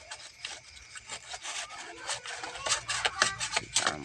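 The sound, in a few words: sanding a fan motor rotor shaft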